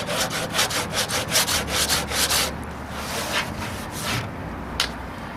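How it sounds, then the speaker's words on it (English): Surform rasp shaping Bondo body filler on a 1968 AMX, about ten quick rhythmic rasping strokes close up, then slower, scattered scrapes trailing off. "Now there's a Bondo cheese grater that works real good."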